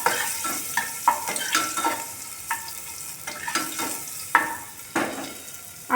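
Whole cumin seeds and ginger frying in hot oil in a pan, a soft steady sizzle broken by irregular scrapes and taps of a spatula stirring, close by with no talking.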